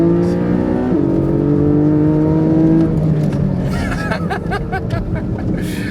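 The 4.0 flat-six of a 2023 Porsche 718 Cayman GTS, a loud, close, steady engine drone with a held tone that shifts downward, then breaks into choppy pulses near the end, with a faint chuckle.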